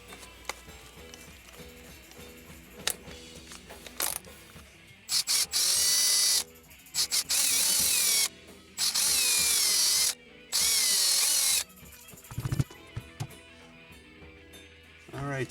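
A power drill with a 9/64 inch bit bores in several loud, close bursts of whining motor, each a second or two long, separated by pauses with handling clatter and someone talking between them.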